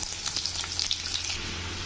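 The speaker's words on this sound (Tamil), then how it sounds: "வெங்காயம் நல்லா வதங்கட்டும்." Oil sizzles steadily with a bright, crackling hiss, close by and continuous, with a few soft pops of onions frying in a pan.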